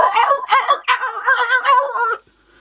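A storyteller's voice imitates the crying of foxes, a series of high, wavering yelps and whines in quick bursts, close and fairly loud for about two seconds before falling silent.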